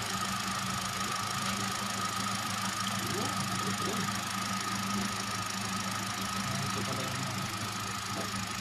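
A Hyundai Accent car engine idles steadily with a constant mid-range drone and a faint knocking tone, loud and close throughout, with a few voices faintly audible.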